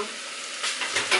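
Beef sizzling in a pan for stroganoff on a home stove, a steady soft frying hiss with a few louder crackling bursts toward the end, no voices.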